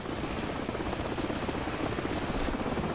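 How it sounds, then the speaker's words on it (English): Helicopter in Call of Duty 4: Modern Warfare, a steady, loud rotor thrum with a rapid chopping pulse that holds at an even level throughout, with no speech. "The helicopter's back."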